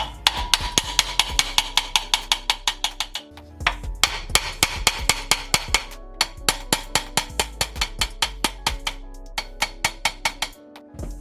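A hammer strikes an old camshaft over and over to seat it in a Supra cylinder head after head straightening. The blows are loud, close and metallic, falling in a steady rhythm with a brief pause partway through.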